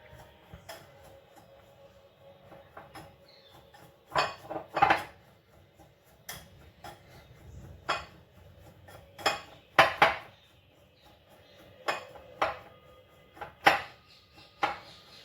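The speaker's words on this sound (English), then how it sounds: "let's just mix all these ingredients well." A spoon or utensil scrapes and clinks against a bowl while wheat garlic bread dough ingredients are mixed, giving irregular sharp taps and knocks spread across the clip, fairly close and with no talking.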